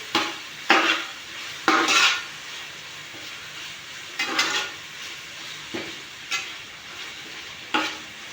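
Onions and spices being stirred in a frying pan, with repeated scraping sweeps every second or so over a steady close sizzle; no voices.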